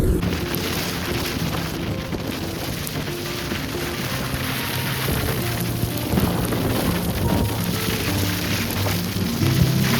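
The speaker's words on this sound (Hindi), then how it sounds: "तांगलांगला से उतरते समय हमें फेस करनी पड़ी काफी हैवी बारिश।" Heavy rain beating down on a mountain road while descending the Tanglang La pass in Ladakh, a dense, steady wash of noise with low rumbling underneath, constant and loud throughout with no pauses.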